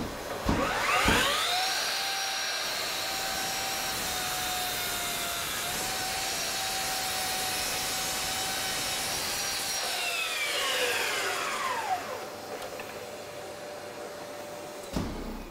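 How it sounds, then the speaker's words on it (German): A dust extractor hums steadily beside a Bosch Professional 18V saw cutting beech wood, with a high whining tone that rises, holds for about ten seconds, then winds down, loud and close, with no talk. "Natürlich, ganz vergessen, der Staubsauger, der ist schon angeschlossen."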